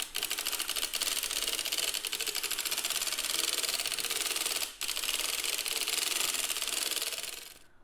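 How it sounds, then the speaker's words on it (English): A circular sock knitting machine is cranked steadily through rows, giving a continuous, fast, rattling mechanical clatter with a brief pause near the end, close and fairly loud with no talk. "now I'm going to crank 50 rows."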